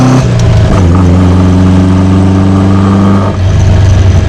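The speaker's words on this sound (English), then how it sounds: "what it sounds like with the side drafts in it" A Ford Capri fitted with side draft carburetors drives along, its engine droning loudly and steadily from inside the cabin, with the pitch holding then dropping sharply as the revs fall near the end.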